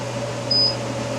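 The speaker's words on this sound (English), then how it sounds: "my fume extractor going" A fume extractor hums steadily beside a DTF printer, a constant mechanical drone with a brief faint beep partway through, no voices.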